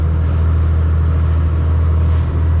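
A boat engine runs steadily at 1600 RPM on a sea trial, producing a loud, even low-pitched drone with no change in pace.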